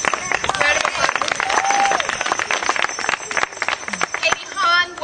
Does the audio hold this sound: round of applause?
yes